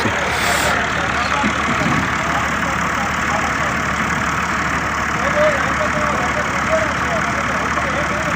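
A tractor engine runs steadily nearby on a village track, a constant mid-low rumble that holds its level for the whole stretch, with voices talking over it.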